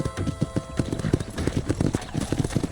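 Horse hooves clip-clop in rapid, steady rhythm on the ground in the Western video game Red Dead Redemption, close and moderately loud, with no speech over them.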